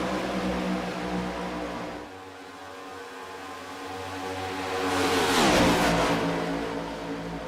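A race car engine drones steadily at lower RPM while tucked into a draft in a Cup Series pack at Talladega, a sustained close mechanical roar that swells louder near the end with no talk.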